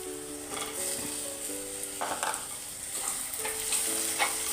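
Onion and tomato frying in a pan for a homemade crab curry, a steady close sizzle with a few scraping stirs of a spatula against the pan, no voices.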